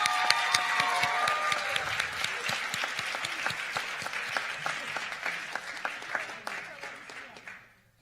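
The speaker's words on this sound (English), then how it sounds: "So a round of applause for our regional finalists." An audience applauds poetry recitation finalists at a state competition, a dense, steady round of clapping that carries on for several seconds before fading out.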